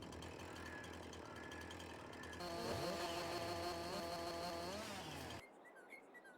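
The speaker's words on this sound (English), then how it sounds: "it makes it so that we can cut down the stumps with the chainsaw" A chainsaw cutting tree stumps in the Farming Simulator 22 video game buzzes steadily, grows louder and rises in pitch as the blade bites, then drops abruptly to a quieter idle.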